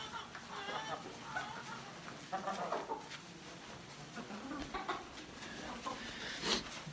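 A flock of chickens clucks while dust bathing in bedding from a mill, a busy chorus of overlapping clucks and squawks with rustling, close and lively, under some quiet talk.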